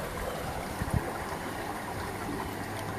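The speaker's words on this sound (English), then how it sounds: "look at all that water going through there" Water flows and swirls into a hole in a rock formation, giving a steady, fairly faint rushing with low gurgles and a couple of brief splashy pulses, and no voices.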